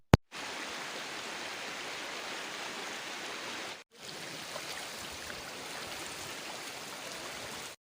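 The Noori waterfall in the Haripur area pours in a steady, broad rush of falling water, loud and unbroken apart from one brief cut partway through, with no voices.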